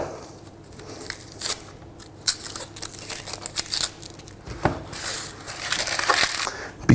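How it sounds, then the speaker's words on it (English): A kitchen knife slicing an onion in half through the roots on a board, close crisp crunching and crackling cuts with papery tearing of the skin, irregular and fairly quiet, no speech. "I'm going to cut it in half through the roots."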